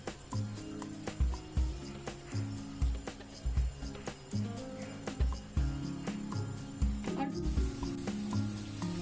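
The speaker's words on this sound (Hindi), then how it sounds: "तेल गर्म हो चुका है और अब हम इसका बॉल बना के छोड़ देंगे।" Potato pakoda balls fry in hot oil with a steady, crackling sizzle that runs throughout, with tonal background music and occasional soft knocks on top.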